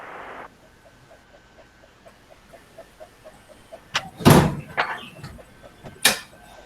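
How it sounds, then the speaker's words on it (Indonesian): A door being shut on a rainy, windy day: a faint creak and rattle, then a loud close bang followed by a second sharp knock, with soft rain patter in the background. "Saya tak nutup pintu ya."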